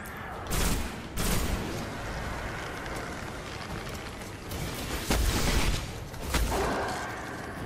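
Gunfire during a firefight in Destiny on the Moon, a dense crackling fusillade of rapid shots with several louder bursts, steady throughout at moderate level.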